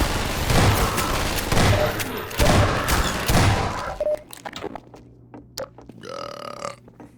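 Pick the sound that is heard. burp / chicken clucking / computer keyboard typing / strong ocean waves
burp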